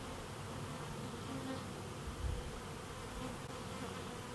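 Honeybees humming at a top bar beehive where they are building comb, a soft continuous buzz with one brief louder pass close to the microphone, and no talk.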